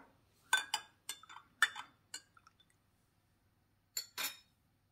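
A spoon clinks against a ceramic cup while stirring coffee brewed from a K-Cup pod, a quick cluster of sharp taps followed by a pause and two more clinks, close and fairly quiet in a silent room.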